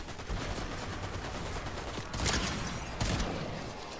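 Gunfire in Fortnite sounds as a couple of sharp, close shots cutting through a steady background of game ambience, with no talking.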